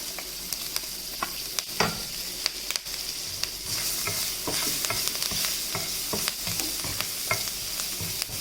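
Green chilies frying in hot oil for stuffed idli, a steady broadband sizzle with scattered crackles and pops and a few sharp spatula scrapes against the pan, close and fairly loud, with no voices.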